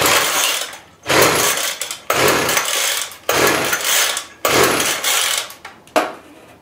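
A string trimmer (weedeater) with its primer bulb pushed and choke left off is pull-started again and again, each loud rasping burst of the starter cord and engine ending abruptly, about five pulls in a row with brief pauses between.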